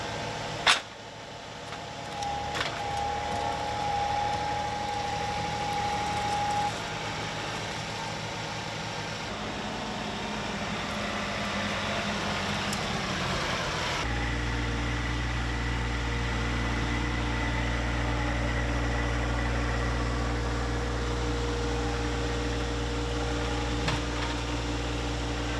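A steady, droning tractor engine runs continuously at close range, its low rumble holding even throughout, with a brief click near the start and no talking.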